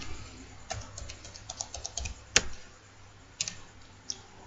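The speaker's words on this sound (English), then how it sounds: "it will require you to type the password" Keys tapped on a computer keyboard while a password is entered in a Linux terminal, a sparse scatter of quiet clicks with one sharper keystroke in the middle and a few more after.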